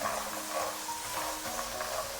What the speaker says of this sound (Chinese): 炒到锅里听到噼里啪啦的声音，这个时候我们的花生米就炒得差不多了。